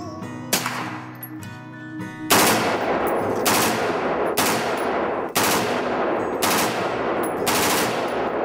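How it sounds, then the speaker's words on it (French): Machine gun firing in sustained bursts, loud close reports ringing out in a fast rolling rhythm after a quieter opening, with no voices. "Lorsque vous tirez avec une mitrailleuse"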